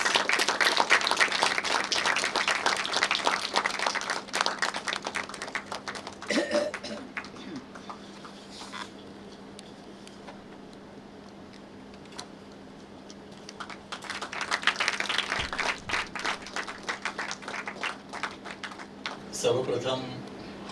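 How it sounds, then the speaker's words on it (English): An audience at a formal curtain-raiser event claps loudly for an arriving professor. The clapping surges at the start, drops to a lighter patter under a speaker's voice, then swells again near the end. "a loud thunderous applause"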